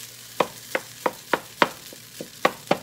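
Cold rice being fried and warmed through in a pan, with a steady series of sharp, evenly spaced knocks and scrapes of a utensil against the pan over a low sizzle, close by.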